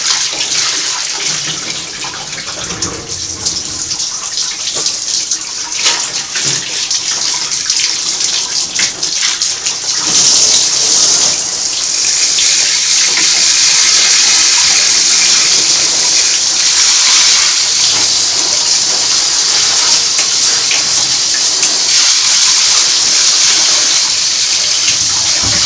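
Steady, loud gush of water from a garden hose spraying over the metal body of a Singer Model 503A sewing machine, continuous splashing with no pauses.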